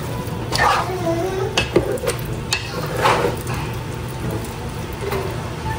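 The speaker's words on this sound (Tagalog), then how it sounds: "Lagyan din po natin ng pangalawa pong gata." Second coconut milk is poured into a simmering jackfruit stew with tuna, giving a steady soft bubbling sizzle with light stirring and faint clinks from the pot.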